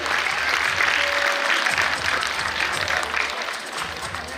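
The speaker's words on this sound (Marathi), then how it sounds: "टाळ्या वाजवून मुलांचे कौतुक करायचे आहे." Steady, full applause from an audience at a school's annual prize-giving, clapping for children who won in sports events such as langdi; dense and continuous, easing slightly toward the end.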